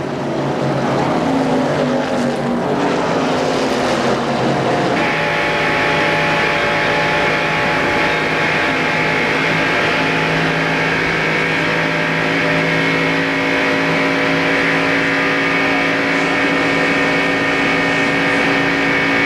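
NASCAR Winston Cup stock cars racing at Daytona in the 1994 Pepsi 400, a loud sustained engine roar as cars sweep past, one Doppler-shifted pass early, then a steady droning pack at speed.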